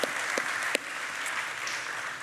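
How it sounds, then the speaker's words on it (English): Church congregation applauding a Navy serviceman at a Father's Day gathering; steady, dense clapping from a roomful of people, fairly close, with a few sharper claps standing out, heard on its own. "can we give him a round of applause for his service?"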